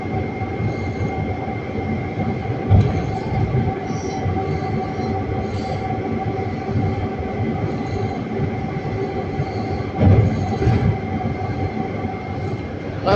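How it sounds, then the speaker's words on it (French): Metro trains pass through Triolo station, bringing a sustained rumble of rubber-tyred or steel wheels, squeals and a couple of sharp clunks as cars go by, a steady electrical hum lying underneath throughout. "passage des rames à Triolo"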